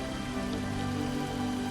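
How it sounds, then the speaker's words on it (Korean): Heavy rain pours down steadily on a city high-rise, a dense continuous hiss of drops drumming on surfaces with no pauses and no voices. "세찬 비가 내립니다."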